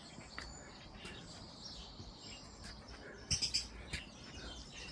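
Lovebirds chirp in an outdoor aviary of recycled timber, faint high tweets scattered over quiet background with a short cluster of sharper chirps, distant and soft.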